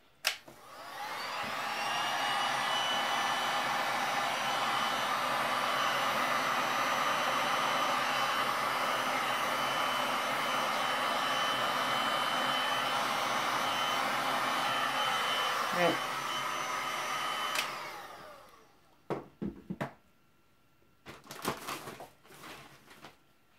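An air blower runs over a resin pour with a steady, loud whooshing hiss for about sixteen seconds, then winds down and stops, followed by a few faint handling clicks and taps.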